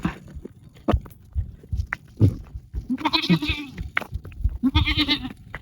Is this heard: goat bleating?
yes